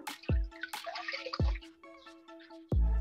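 Bleach solution is poured onto tie-dyed fabric in short, faint splashing bursts, three distinct pours over a quiet background with a faint steady tone.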